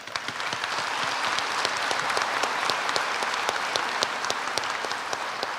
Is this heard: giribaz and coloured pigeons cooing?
no